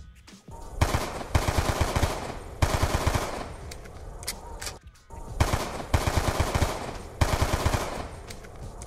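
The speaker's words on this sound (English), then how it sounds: "it is the Cap 40 from Black Ops 3" KAP-40 pistol from Call of Duty Black Ops 3 fired in rapid bursts, sharp loud cracking shots in several tight clusters separated by short pauses, with no voices.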